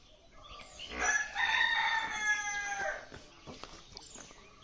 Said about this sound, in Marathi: कोंबड्यांचा तुम्हाला आवाज येतच असेल ऐकायला